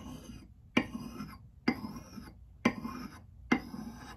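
Someone hand-polishes the bit of a La Cognee axe, likely with a stone or file. Four evenly spaced rasping strokes start with a sharp scrape and fade out, each about a second apart, close and quiet.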